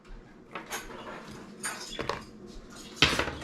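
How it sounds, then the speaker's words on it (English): Measuring cups and dishes clatter and clink in a kitchen while bannock is prepared for two, with several scattered knocks and scrapes and a louder clatter near the end. "Our measuring cups."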